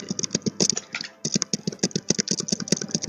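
Close, rapid clatter of fingers mashing computer keyboard keys to skip a cutscene in a Mario Tennis: Power Tour speedrun, dense irregular clicks with a brief pause midway.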